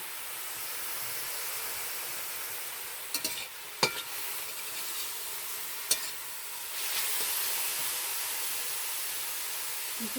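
Spice paste fries in oil over low heat for a carrot and prawn dish, a steady close sizzle and hiss with a few sharp clicks of stirring.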